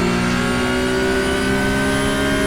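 A Porsche Cup race car in the iRacing sim game at the start of a race at Road America, its engine a loud, sustained high-revving whine with steady harmonic tones and no speech.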